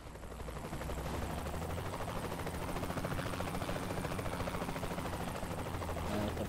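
A helicopter flies in Saints Row: The Third Remastered, its dense rotor chop and engine drone holding steady and loud throughout, with faint gunfire-like crackle mixed in.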